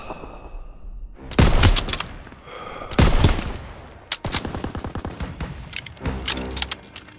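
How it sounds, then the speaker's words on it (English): Machine gun fire from a German MG nest during a Call of Duty WWII urban assault, with loud bursts of automatic gunfire and heavy booms up close, followed by rapid rattling volleys amid battle noise. "Fire on the MG."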